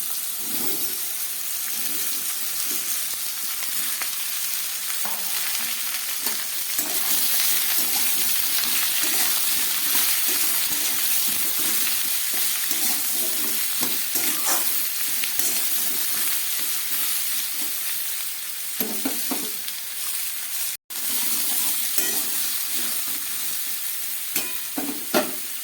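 Bottle gourd frying in a pan with lightly roasted mung dal for lau ghonto, a continuous close sizzle with intermittent stirring scrapes and clatters, no voices.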